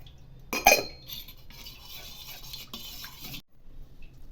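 Flour, spices and ghee with warm water are mixed for fafda dough, opening with a sharp utensil clink and followed by soft scraping and stirring against a bowl before a sudden stop.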